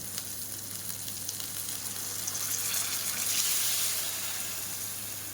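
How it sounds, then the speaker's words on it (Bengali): Water pours into a pot of egg curry with potatoes and spices, a soft steady hiss and gush rising in the middle and easing off, fairly quiet with no voices. "এবার আমি অল্প জল দিয়ে দেবো"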